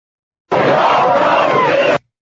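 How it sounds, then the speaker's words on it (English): A crowd at the Ambassador Hotel chanting for Bobby Kennedy, played in reverse: one loud, dense burst of massed voices lasting about a second and a half, starting and stopping abruptly, with no other sound around it. "This is a crowd chanting for Bobby Kennedy."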